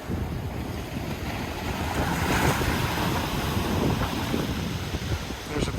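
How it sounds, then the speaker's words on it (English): Large surf waves roll and crash near a jetty on an overcast Gulf of Mexico beach, a continuous loud wash of breaking water with steady wind buffeting the microphone throughout. "You can see them waves coming in here today. Pretty big waves."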